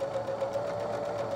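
A sewing machine stitches close to the edge of the fabric at a steady pace, whirring with a continuous hum and a rapid needle patter, while no one speaks.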